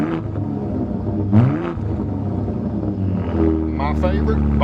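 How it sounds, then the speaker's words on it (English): 2025 Ford Raptor exhaust switched into sport mode, a deep steady idle rumble with a brief throttle blip, under a voice. "Hit this button right here just to change the exhaust mode"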